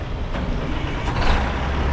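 An old B model Kenworth truck on a cold highway stop, heard as a steady, loud low engine rumble with a broadband road roar that swells slightly toward the end.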